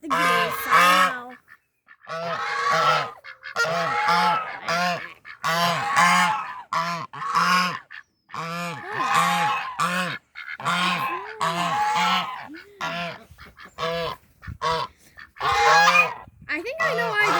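Geese honk loudly and repeatedly in a noisy flock nearby, with constant overlapping calls and brief pauses, while a person talks now and then over the birds on a morning outing.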